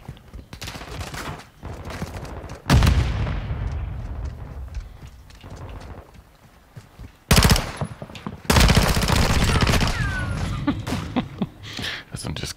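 Bursts of automatic gunfire and loud blasts in a Call of Duty match, close and heavy, broken by quieter gaps, with a player's voice heard during the shooting.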